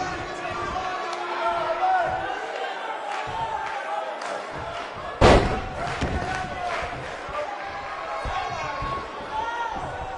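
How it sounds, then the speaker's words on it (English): Sold-out arena crowd in the WWE 2K19 wrestling video game, a continuous roar of cheering with a loud slam midway, while a commentator talks over it. "We have a sold-out, record-setting crowd here for BCW tonight."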